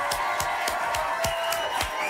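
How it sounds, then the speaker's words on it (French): Audience applause welcoming a guest onto a French talk show, a soft bed of crowd clapping at a fair distance with a steady beat of heavier thumps roughly every quarter second running through it. "Je vous demande un tonnerre d'applaudissements"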